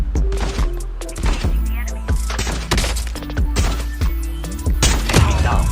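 Rapid bursts of gunfire and sharp shots in Call of Duty Mobile tournament play, loud and repeated across the whole stretch, with thuds and impacts among them and no talking.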